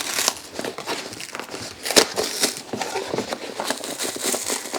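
A plastic package of clothes is opened by hand, giving steady crinkling and rustling of wrapping at close range with a few louder crackles and no voices.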